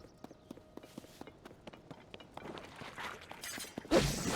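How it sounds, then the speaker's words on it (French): A horse in Zelda: Tears of the Kingdom trots with steady hoof clip-clops, then bumps into something with a sudden louder crash near the end. "C'est juste le cheval qui a dû taper."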